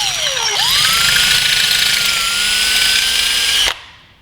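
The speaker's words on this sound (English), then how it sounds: "I'm gonna go the drill bit route and clean up the swing arm holes" A drill turns a 7mm bit through the swing arm holes of a 2018 Suzuki GSX-R1000, a loud steady whine that spins up fast, holds for about three seconds and cuts off abruptly.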